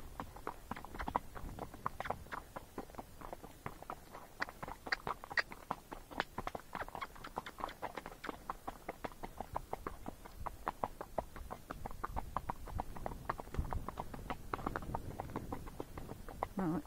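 A Missouri Fox Trotter horse moves along a rocky trail. Its hooves strike in a quick, uneven series of close clops and scrapes on stone, faint but continuous throughout. No one talks.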